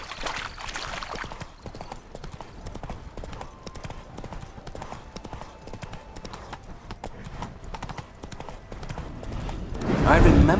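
Hooves of Geralt's horse Roach clip-clop steadily in The Witcher 3, a rhythmic trot of hollow knocks at moderate distance under ambient game sound, with a louder voice entering at the very end.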